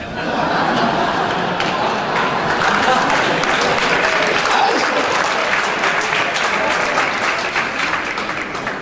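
Sustained applause from a church audience during a sermon on church planting, dense and loud throughout with scattered chuckles and laughter mixed in.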